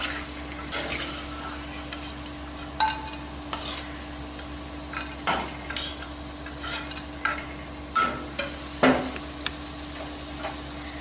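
Onion vadagam frying slowly in oil over a low flame, a soft continuous sizzle broken by occasional sharp stirring scrapes and clinks from a utensil in the pan.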